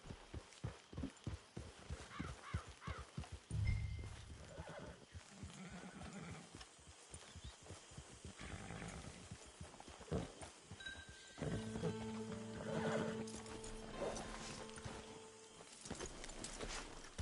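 Horse in the video game Red Dead Redemption 2, with clip-clopping hooves and a neigh over a game soundscape, brief sound effects, and no speech.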